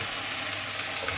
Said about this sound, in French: on fait sauter tout ça, que ce soit bien mélangé